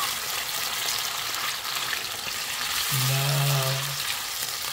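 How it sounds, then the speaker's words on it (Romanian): Onion sizzling in a frying pan after browned meat has been removed, a constant bright crackle with a brief low hum partway through and a single spoken word. "O scoatem și prăjim ceapa"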